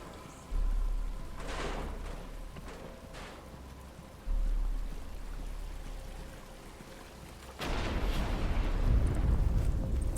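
Rain in the video game Batman: Arkham Asylum, a steady broad hiss of falling water that swells louder in stages, with deep rumbling beneath and no voices.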